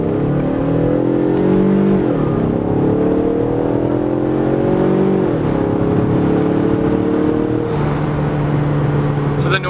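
A turbocharged car engine with a cold air intake revs and climbs in pitch, dropping and rising again with gear changes, loud and close, with people talking over it.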